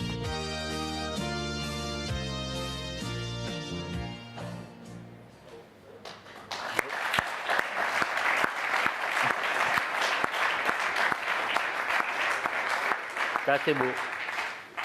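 An audience at the Vendée Globe 2020 arrival press conference applauds Jean Le Cam, a dense, sustained burst of clapping that follows a stretch of music and runs on loudly, with a brief spoken remark near the end.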